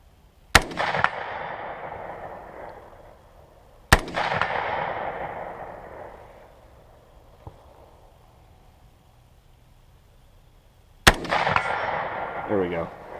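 Three loud rifle shots fire at targets at 100 yards outdoors, each a sharp crack followed by a long rolling echo that fades over several seconds, with a faint distant impact ping between shots.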